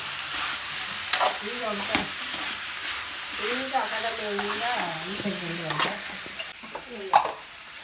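Chicken sizzling and being stirred in a pan at close range, with faint voices murmuring in the background.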